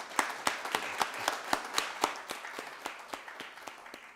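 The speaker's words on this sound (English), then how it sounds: "let's give them another round of applause" A small group claps at a Rockdale County Board of Commissioners meeting, individual hand claps distinct and fairly evenly spaced, moderately faint in a quiet room and thinning out toward the end.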